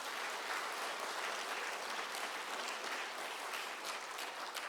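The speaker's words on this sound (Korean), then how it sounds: "그 하나님께 영광의 박수를 드리겠습니다." Church congregation at a prayer meeting giving sustained applause, a thick, continuous patter of many hands clapping throughout, fairly distant and uniform, without voices.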